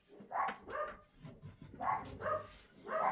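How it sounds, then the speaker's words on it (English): Dogs indoors barking in a series of sharp, moderately loud woofs in quick pairs, several barks spread across a few seconds with short gaps between, no talking. "Oh, good gracious, what are they barking at?"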